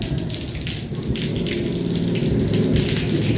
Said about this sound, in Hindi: सबसे पहले पानी छिड़काव कर देती हूँ।